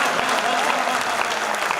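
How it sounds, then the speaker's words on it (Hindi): Dense, steady clapping from an audience at a Hindi kavi sammelan poetry recitation, a short loud burst with no speech over it. "तालियां बड़ी कीजिएगा।"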